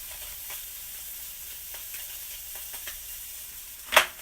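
Fish pieces sizzle on a hot grill just after flipping, a steady low crackle with faint pops, then one sharp louder hiss near the end.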